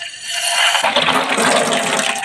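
Water bursts from a newly replaced household tap once the main valve is opened, a sudden loud rush that keeps flowing steadily and close by.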